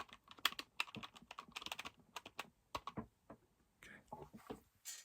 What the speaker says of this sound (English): You can type your name in right there.